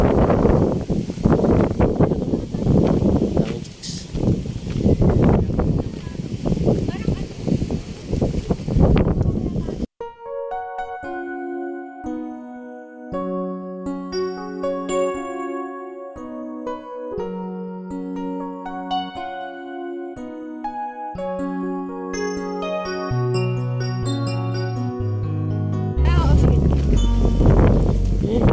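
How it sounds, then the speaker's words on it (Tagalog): Strong wind roars and buffets a microphone outdoors at a hillside spot in Angono, Rizal, for several seconds, gives way to music in the middle, then gusts back at the end. "Grabe, lakas ng hangin"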